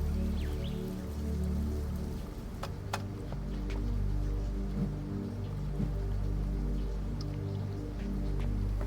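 Water sprinkler system in the game Myst IV Revelation, a steady hiss of spraying and pattering water with scattered drips over a low hum, moderately faint.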